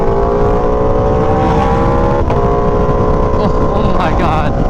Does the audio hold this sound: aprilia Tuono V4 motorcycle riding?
yes